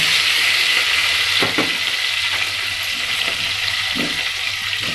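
Coriander, curry leaves and mint stirred into frying vegetable biryani, a constant close sizzle broken by a few scraping stirs in the pan.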